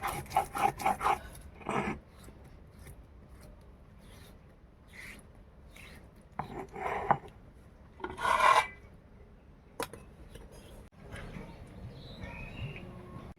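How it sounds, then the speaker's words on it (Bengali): Ginger and garlic are ground on a traditional flat grinding stone (shil) for chicken kala bhuna, giving rough, rasping scrapes in short bursts separated by quieter gaps. Strokes are close and moderately loud, with no speech. "আদা রসুনটা বন্ধুরা একটু শিলে বেটে নেবো।"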